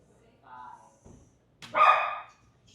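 A dog barks during an indoor yoga class: a softer vocal sound first, then one louder, fairly close bark after a brief pause.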